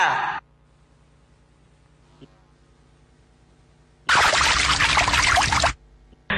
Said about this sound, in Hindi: कितना पानी गिराओगे? डुबाओगे क्या?